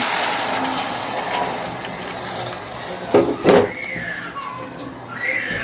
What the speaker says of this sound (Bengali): এখানে আমি পানি দিয়ে দিচ্ছি